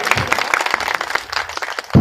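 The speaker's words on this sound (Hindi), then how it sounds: "जोरदार ताली बजा के स्वागत करिए भाई" A crowd at a memorial-day gathering in Phulpur claps loudly to welcome Gyan Singh Prajapati, dense continuous applause with scattered individual claps and some voices underneath.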